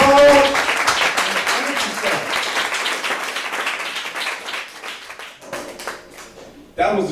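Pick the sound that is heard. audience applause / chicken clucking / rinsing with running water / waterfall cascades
audience applause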